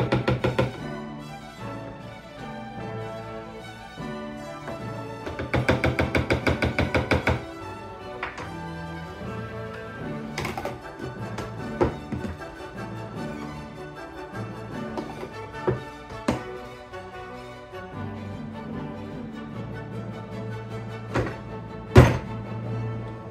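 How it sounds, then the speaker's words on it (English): Overnight oats with fruit stirred in a container, giving repeated close thunks and scraping knocks with a dense burst of rapid clatter partway through, all without speech. "Mixing it up a little more."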